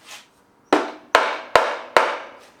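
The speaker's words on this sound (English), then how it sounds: "just tapping on each end here like this" Sharp taps knock on the engine cases of a Yamaha XV1000 Midnight Special during teardown. Four crisp, evenly spaced strikes ring close and loud, each with a short decay, followed by a faint softer knock.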